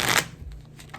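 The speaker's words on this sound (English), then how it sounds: "So shuffling the decks, making sure they're well shuffled." Playing cards being shuffled for a game of Nertz, one quick riffling burst at the start followed by faint handling clicks.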